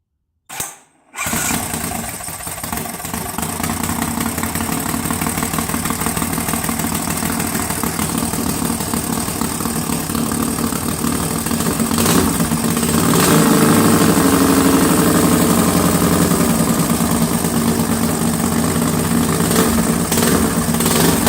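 FXT motorcycle engine fires after a short silence and settles into a steady, loud idle with a continuous rumble that swells slightly near the end, with no talking over it.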